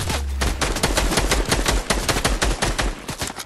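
Rapid gunfire in Fortnite, a dense run of loud, closely spaced shots and bursts filling the whole stretch without a break, no voices over it.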